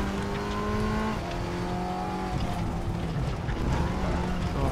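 An Audi TT Cup 2015 race car in the RaceRoom racing game at Oschersleben gives a steady, loud engine drone. Its pitch drops and climbs again as the driver works through the gears, with no talking over it.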